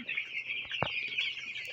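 Eleven-day-old broiler chicks cheep in a dense, continuous high chorus close by, with one sharper peep standing out from the steady twittering.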